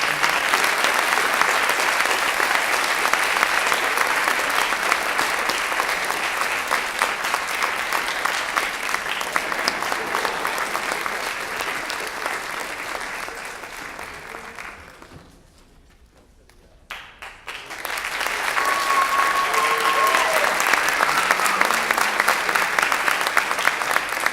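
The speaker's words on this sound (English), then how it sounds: "Everybody give him a round of applause." Sustained audience applause at a school spring jazz concert, loud and steady for about fifteen seconds, briefly fading to near silence, then swelling again with a few faint voices mixed in.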